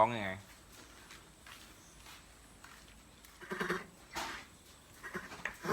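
A mare and her foal calling out with high, shaky whinnies when their feed bucket is touched, heard as several loud bursts in between stretches of quiet stable noise, with a person's voice nearby.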